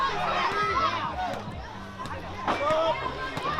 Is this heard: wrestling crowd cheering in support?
yes